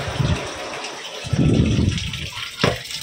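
Tap water runs while dishes are washed, gushing in uneven bursts with a short break partway through, close and fairly loud.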